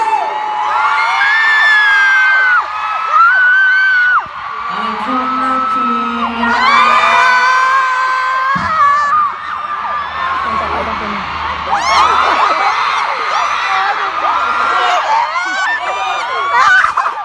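A large concert crowd in Thailand screams and cheers continuously, with shrill overlapping yells rising and falling in loud waves and voices mixed into the din.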